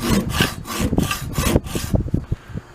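A folding hacksaw with an 18 teeth per inch blade rasps through a workpiece in about five quick, rhythmic close strokes, then settles into softer, irregular scraping.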